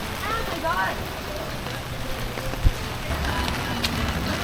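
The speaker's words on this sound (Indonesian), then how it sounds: "Ini hujannya lumayan deras ini ya." Heavy rain falls on a Hongdae street in Seoul, a dense steady hiss of drops on pavement and surfaces throughout, with a person talking over it and a brief knock partway through.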